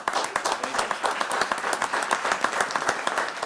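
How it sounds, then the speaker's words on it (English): Steady applause from attendees at a county freeholders meeting, a room of hands clapping evenly and at moderate distance for a few seconds. "Let's have a round of applause."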